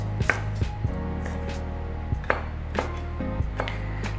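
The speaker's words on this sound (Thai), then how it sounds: "เดี๋ยวหั่นให้เล็กลงนิดหน่อย จะได้เวลาตำได้ง่ายหน่อยนะครับ" Rapid knife chopping of coriander root and garlic on a cutting board, sharp repeated thuds in irregular bursts, close and clear with no talking.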